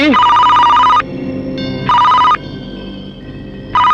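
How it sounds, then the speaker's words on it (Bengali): A phone rings loudly in close, repeated bursts with short pauses between, while a voice talks in the gaps. "তোর বাপের ফোন আইছে"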